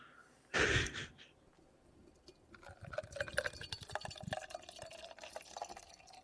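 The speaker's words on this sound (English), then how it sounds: "You got the pour sound." A drink is poured right beside the microphone: a short loud splash, then a quieter stretch, then a long gurgling, fizzy trickle of liquid filling a glass, with no voices.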